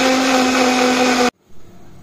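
A loud, steady blender grinds chillies and coconut into sambar paste, whirring for over a second, then cuts off abruptly, leaving a faint rattle as it winds down.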